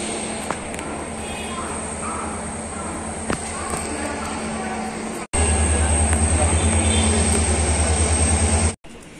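A passenger train on arrival at Majestic station in Bangalore after a trek, with a steady loud rumble and engine drone that grows heavier in the second half, plus a brief louder burst near the end.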